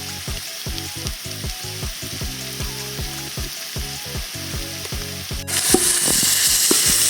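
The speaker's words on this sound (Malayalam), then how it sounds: "സവാള നല്ലപോലെ വഴറ്റിയെടുക്കണം. സവാള വഴറ്റിയെടുക്കാൻ ഇച്ചിരി ഉപ്പിടാം." Onions sauté in a pan with a pinch of salt, hissing with a steady sizzle while a utensil scrapes and stirs in quick, regular strokes, close and clear.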